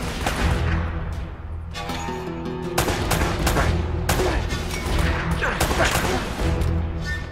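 Gunfire in the video game Uncharted: Drake's Fortune, with an AK-47 and other rifles: repeated loud bursts of shots, some rapid and some single, over a constant background of game sound.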